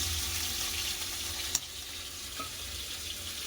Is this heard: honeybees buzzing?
no